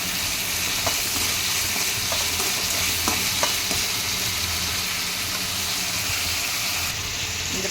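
Onions and tomatoes frying in oil for a yellow pumpkin dish, a steady close sizzle with scattered scraping clicks of stirring throughout, no voices.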